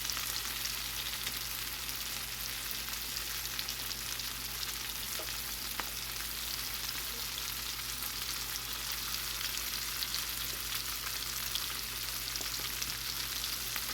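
Fish frying in a pan of oil, turned to cook the second side: a steady, even sizzle and crackle that holds at the same level throughout, with a low hum beneath and no voices.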